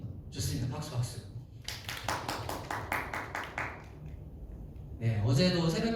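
A church high school youth congregation gives a short burst of rhythmic clapping, sharp repeated claps in the middle, with a voice speaking before and after.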